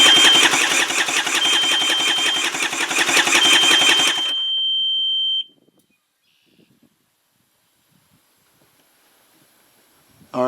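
Seadoo DI watercraft engine cranking on the starter during a compression test of a damaged cylinder, a rapid steady chugging for about four seconds, then a short whine before silence.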